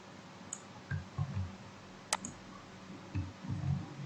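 Keywords typed on a computer keyboard while registering and submitting on an OJS 3 journal site, followed by an Enter press. Sparse, faint clicks and taps sound close by in a quiet room, with one sharper key strike in the middle.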